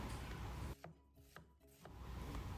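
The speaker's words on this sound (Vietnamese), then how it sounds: "Các bạn sẽ băm lại nha, cho nó nhuyễn." Rapid, close knife strokes on a wooden board mince vegetables fine for a shrimp-and-pork rice-roll filling, a fast rubbing chop with a brief pause partway through, and no voices.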